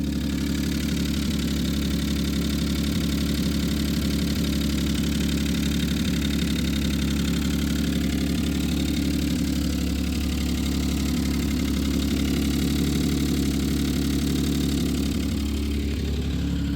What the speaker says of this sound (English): It's idling pretty high